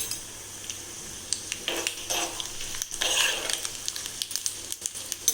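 Mustard seeds and cumin drop into a hot pan for a coconut curd chutney, giving light crackling and sizzling with scattered clinks and taps of a spoon against the pan, close and fairly quiet.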